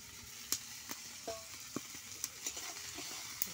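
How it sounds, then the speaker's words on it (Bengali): Fried tangra fish stirred in an oil-released spice paste, giving a quiet, steady sizzle with intermittent scraping clicks from stirring, no talk. "সঙ্গে একটু ট্যাংরা মাছ ভাজাগুলো ভালো করে নাড়াচাড়া করে নেব।"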